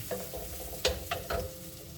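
Onion sizzling in butter in a pan, a soft steady fry with a few brief louder stirring scrapes, fairly quiet and close, no talk.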